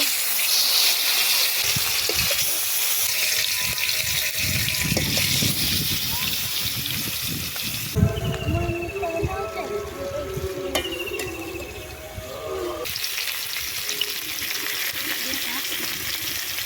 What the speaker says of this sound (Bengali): তেল গরম হয়ে গেছে এবারে মাছগুলো দিয়ে দেব